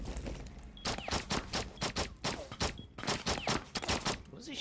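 Rapid bursts of automatic gunfire in Rainbow Six Siege, a string of sharp, loud cracks in irregular volleys with brief pauses between them, fairly close.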